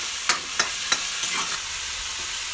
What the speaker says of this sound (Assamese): লয়া তেলত ভাজি ল'লোঁ